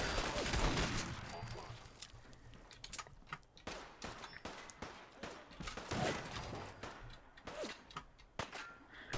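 Video game gunfire crackles in rapid, irregular bursts of sharp shots, fairly dense and loud against a busy background of thuds and movement.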